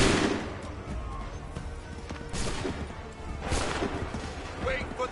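Musket volleys crack and roll through a battle in Assassin's Creed III, several heavy bursts of gunfire with chaotic clatter and shouting voices mixed in.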